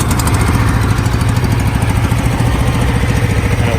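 A Craftsman DYT400 lawn tractor engine runs steadily at a fast idle, giving a loud, close, continuous rhythmic chugging with a rattly mechanical edge and no pauses.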